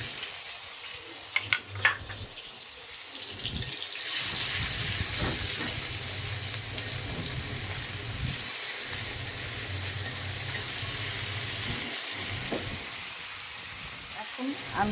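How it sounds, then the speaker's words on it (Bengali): Onion, garlic, ginger, green chili and mustard paste fry in oil with a steady broad hiss and sizzle, a few clinks from a utensil early on, and low rumbling background noise underneath. "তেলের মধ্যে পেঁয়াজ, রসুন, আদা, তারপর কাঁচামরিচ, সরিষা বাটা দিয়ে দিলাম।"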